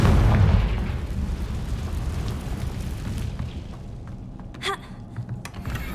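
A Confringo spell blast in Hogwarts Legacy bursts with a deep boom at the opening, then a rumbling decay follows, with a few small crackling pops toward the end.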